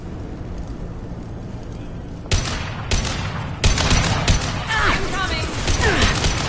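Gunfire in the video game Mass Effect 2, with several sharp bursts of shots and impacts starting partway in and continuing densely over a steady ambient backdrop, with voices talking over the action.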